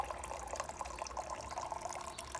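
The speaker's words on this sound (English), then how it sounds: "Well, the water's coming." In an erosion demonstration, water runs over soil in a faint, steady, close trickle like a small stream from a tap, with no talk over it.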